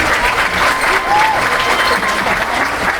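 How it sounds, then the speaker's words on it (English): A steady burst of applause from a crowd at a fourth-grade school event, dense clapping sustained throughout at an even, fairly loud level. "let's give them a round of applause"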